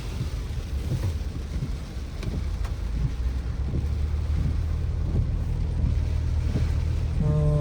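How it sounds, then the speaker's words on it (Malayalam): Floodwater overflowing a bridge after two days of heavy rain, a steady broadband roar of rushing water close by with occasional low thumps, holding constant throughout with no voices. "ഇവിടെ കണ്ടോ, ഈ പാലമൊക്കെ നിറഞ്ഞൊഴുകാൻ തുടങ്ങി"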